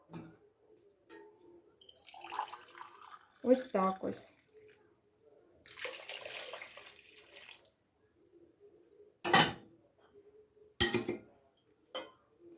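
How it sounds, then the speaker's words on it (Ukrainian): A glass of water is poured for plov, running and splashing in a couple of short bursts close by, with kitchen clatter and a voice speaking briefly between. "Стакан води ще наливаємо."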